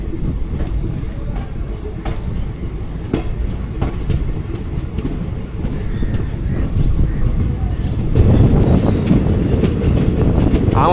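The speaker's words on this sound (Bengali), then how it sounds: "আমাদের ট্রেন এখন উত্তরাখণ্ডের মধ্যে দিয়ে ছুটে চলেছে।" The Bagh Express from Howrah to Kathgodam runs through Uttarakhand, heard from inside as a loud continuous rumble with rhythmic clattering of wheels on track that grows heavier toward the end.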